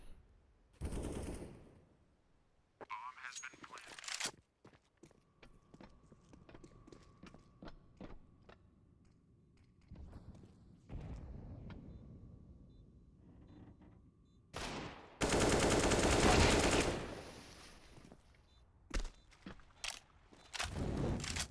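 Automatic AK rifle fire in a Counter-Strike match on the Overpass map: several loud bursts of rapid shots separated by quieter stretches of footsteps and game noise, with the heaviest sustained burst near the end.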